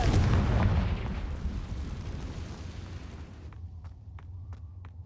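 A Confringo blasting spell in Hogwarts Legacy explodes with a loud, rumbling boom that fades into a long crackling decay, followed by a few faint ticking clicks as it dies away.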